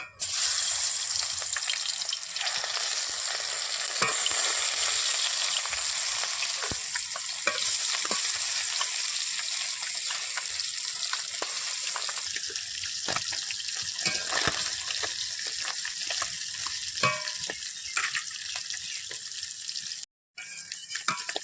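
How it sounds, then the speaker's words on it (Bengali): Small puti fish fry in hot oil in a wok, a loud, continuous, close sizzle that runs almost unbroken, dropping out briefly near the end. "এবার মাছগুলো দিয়ে ভেজে নেব।"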